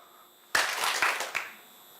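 An audience at a live design event claps together in one burst, a sudden loud wash of many hands starting at once with a few stronger accents, then fading out after about a second.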